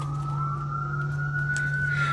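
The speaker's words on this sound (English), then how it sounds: "There's an ambulance." An ambulance siren sounds outdoors, a steady wailing tone that slowly rises in pitch, with a low engine hum running under it and no voices heard.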